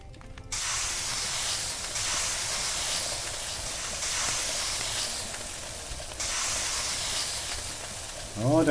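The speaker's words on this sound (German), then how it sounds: "Oh, der Grill ist ganz schön laut." Kebab skewers and vegetables sizzle on a large new grill, a loud, steady hissing roar that fills the space, dipping and swelling slightly in waves before a brief sharper sound at the end.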